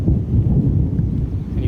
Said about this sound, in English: And you can hear that thunder.